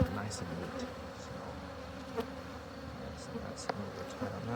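Honey bees hum in a dense, steady drone during a swarm hive inspection. The buzzing stays close and continuous, with occasional sharper individual buzzes passing nearby.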